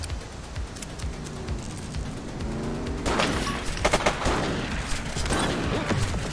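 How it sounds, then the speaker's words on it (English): Gunfire in the police video game The Precinct: a quiet stretch of background hum gives way to a burst of sharp shots around the middle, followed by several further scattered cracks over ongoing game ambience. "He's shooting! He's shooting!"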